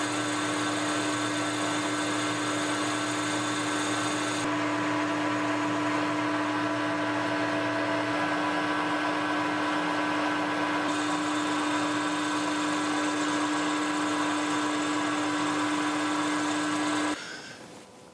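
A lathe takes light cuts on an engine crankshaft blank, giving a loud, steady machine hum with a strong tonal whine for about seventeen seconds before it winds down; no talking.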